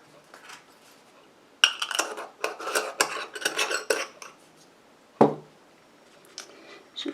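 A homemade niacinamide and green tea day cream is stirred in a small container, making close scraping, clinking and rubbing strokes in irregular bursts with quiet gaps and one sharp knock near the end.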